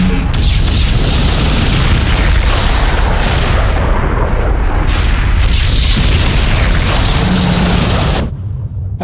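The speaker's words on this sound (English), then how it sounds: "you can kind of see how exactly we sound designed some explosions." Sound-designed explosion effects made for a Star Wars fan film: a loud, sustained roar of booming blasts with bright crackling debris, several overlapping detonations that swell and renew before cutting off abruptly near the end.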